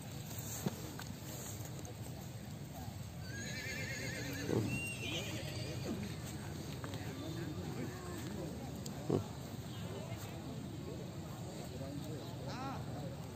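Horses neigh and whinny at a horse and cattle market in Trùng Khánh, Cao Bằng, with a loud whinny near the middle over steady crowd chatter and market bustle.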